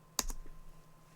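Two or three sharp clicks from a computer keyboard as a single key is pressed, checking a French AZERTY layout during an OpenBSD 7.7 install under QEMU; brief, close and dry, with silence afterward.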